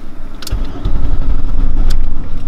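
Volkswagen Cabrio VR6 engine cranking and catching, a loud close churn that rises into a rough running idle after a struggle to start.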